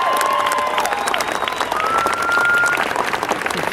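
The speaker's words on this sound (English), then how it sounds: "let's give a round of applause for your drill master, Staff Sergeant Gonzalez." Crowd at a Marine Corps recruit graduation family day applauds and cheers for a drill master, dense clapping with shouts and whistles throughout.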